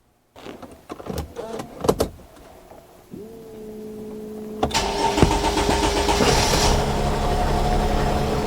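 A Dodge Sprinter van engine cranks with a few clicks and catches, then settles into a steady, close idle with a rising whine and a constant hum.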